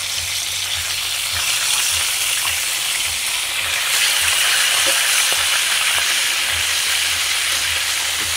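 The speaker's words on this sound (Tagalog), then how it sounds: "Prituhin muna natin ang ating isdang karpa guys." Carp fillets fry in a pan with a steady, close sizzle and crackle of hot oil, continuous throughout with no voices.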